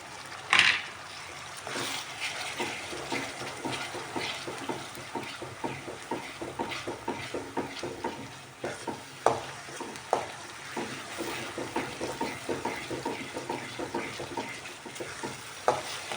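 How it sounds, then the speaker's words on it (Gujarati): Ginger, chili and garlic paste frying with onions in a pan for Kathiyawadi-style pav bhaji, a steady close sizzle with repeated scraping and stirring clicks throughout, and no talking. "હવે નાખી દઈશું આપણે એની અંદર આદુ મરચાં અને લસણની પેસ્ટ."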